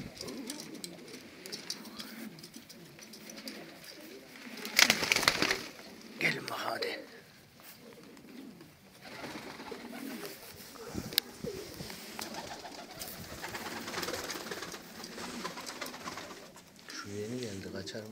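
Domestic pigeons coo in a loft in Ankara on a snowy day, soft low murmuring calls repeating close by, with wing flutters and scuffling mixed in and a person speaking quietly now and then.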